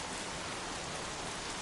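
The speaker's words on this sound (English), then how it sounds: "Goddamn rain." Rain from the video game Heavy Rain falls as a steady, dense hiss of downpour, moderately quiet and unbroken across the short stretch with no voices.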